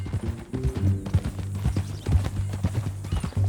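Horse hooves clip-clopping in the video game Red Dead Redemption 2, a steady close rhythm of hoof strikes with deep tonal game sounds underneath and no talk.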